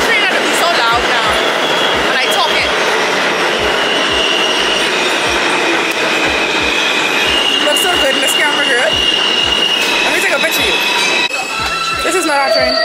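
A subway train passing through a New York metro station, loud rumbling with rhythmic wheel clatter over rail joints and a high metallic screech running throughout, close by and filling the platform.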